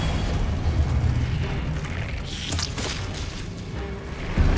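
Hogwarts Legacy Confringo fire spell erupting in a sustained, rumbling explosive roar, with a sharper burst midway in dense game combat noise and no speech.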